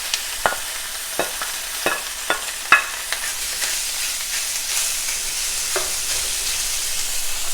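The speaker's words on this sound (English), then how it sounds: "And go straight in with that bacon." Bacon dropped into a warm dry pan without oil, a handful of sharp knocks and clatters at first, then a steady close sizzle that hisses on alone.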